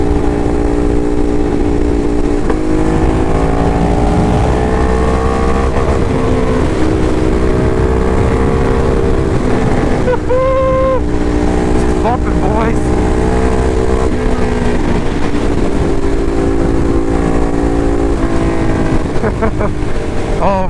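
Motorcycle engine running loud and steady while riding, a sport bike with quick shifter and auto blipper, harmonic drone rising and falling with gear changes and throttle blips, with wind noise underneath.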